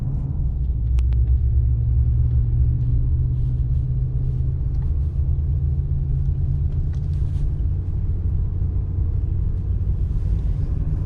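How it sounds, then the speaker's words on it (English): Inside a pickup truck climbing a mountain road, a steady loud low engine and road rumble drones throughout with faint rattles and no talking. "Nothing like a little mountain drive early afternoon."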